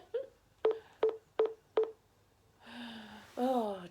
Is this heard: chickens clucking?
no